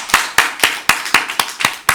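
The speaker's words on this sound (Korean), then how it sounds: "우리 하나님께 영광의 박수 올려드리겠습니다." Loud, close rhythmic clapping from a church congregation giving glory to God, with eight sharp, evenly spaced unison claps at about four per second.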